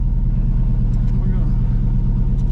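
A 1979 Chevy Silverado C30 Camper Special wrecker truck drives around the block, its engine a steady, low, throbbing rumble heard from inside the cab with little change in pace.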